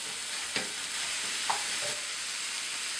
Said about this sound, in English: I have some minced meat in the frying pan